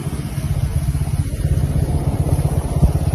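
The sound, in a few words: motorbikes riding and braking on a road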